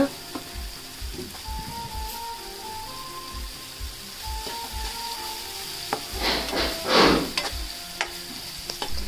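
Steady sizzling of salted tomatoes frying in a pan for mushroom masala, with light stirring scrapes and a few louder crackling bursts toward the end.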